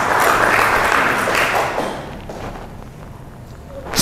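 A church congregation cheers and applauds for God during a Sunday morning service, a loud, dense wash of clapping and shouting that fades after a couple of seconds.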